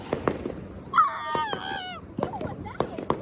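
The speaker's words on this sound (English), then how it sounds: "Fireworks." Fourth of July fireworks over Los Angeles, heard from a rooftop, give sharp separate pops and bangs with a whistling, wailing streak partway through, while people talk nearby.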